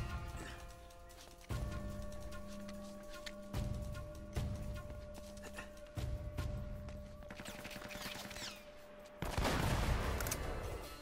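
Gunfire during a firefight in Uncharted: Drake's Fortune, with sharp shots and volleys cutting through sustained game tones and a dense burst of noise toward the end, mixed in a busy soundscape.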